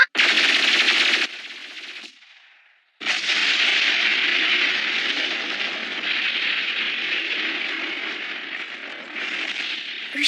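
Rapid machine gun fire in an anime battle scene, loud continuous bursts with a brief pause before firing resumes and runs to the end.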